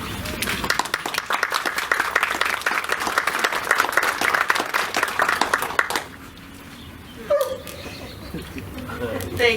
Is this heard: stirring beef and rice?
no